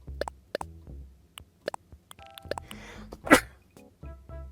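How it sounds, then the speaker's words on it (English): A single sharp sneeze bursts out once, loud and close, in a quiet scene scattered with soft clicks and light ticking taps before and after. "Ugh. Sneezing."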